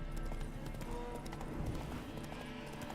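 Roach, a horse in The Witcher 3, spooked by ghosts, with steady clip-clopping hooves and some restless movement under continuous game ambience and music, without talk.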